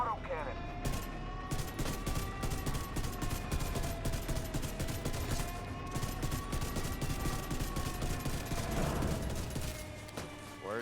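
Autocannon fire in the video game The Division 2 pounds in a rapid, steady stream of heavy shots for the whole stretch, with battle noise around it and voices faintly underneath.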